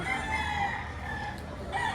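Chickens on a Filipino farm in Padre Garcia, Batangas, cluck steadily with a rooster crowing through them, a dense, continuous flock sound close by with no talking.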